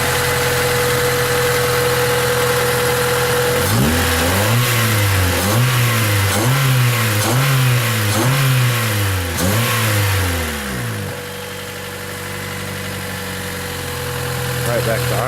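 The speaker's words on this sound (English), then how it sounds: "And rev it up for you a little bit." A car engine with a stock exhaust manifold idles, then revs up and down in a series of rhythmic pulses before dropping back to a low idle.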